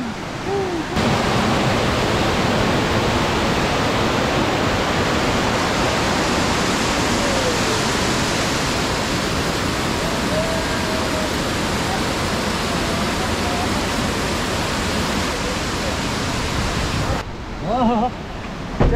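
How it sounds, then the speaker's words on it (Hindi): A waterfall at Bhalukpong in Arunachal Pradesh pours as a loud, continuous broadband roar filling nearly the whole stretch, then drops away briefly near the end. It sounds close and steady, with voices faintly under the rush. "कितना खूबसूरत है ना यहाँ पे झरना"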